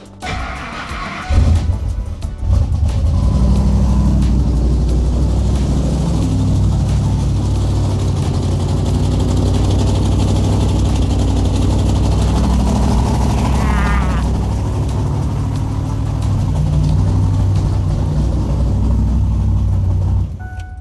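A Ford F-150 truck engine, started for the first time in two years, rumbles steadily at idle for a long stretch, with a rough, ticking, leaky exhaust note from exhaust leaks running underneath.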